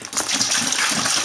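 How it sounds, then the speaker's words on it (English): Liquid poured steadily from a bottle into a home-brewing vessel while making a dry stout, a continuous close splashing gush running unbroken for the whole moment. "Let's start pouring the whole content"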